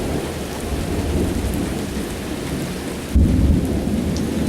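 Severe thunderstorm with steady rain pouring down and a deep thunderclap rumbling in partway through, loud and close, with no speech.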